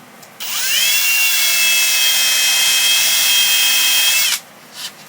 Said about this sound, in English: Just drilling my hole.